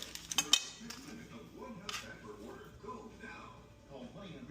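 A metal lid clanks onto a cooking pot of pork sinigang sour soup, a few sharp clinks at the start, then softer kitchen clatter while a person talks.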